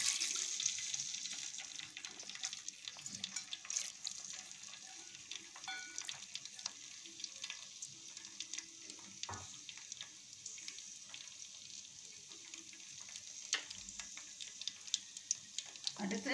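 Fenugreek seeds fry in heated oil while homemade hibiscus hair oil is being prepared, a faint continuous sizzle with scattered crackles and small clinks, close but quiet.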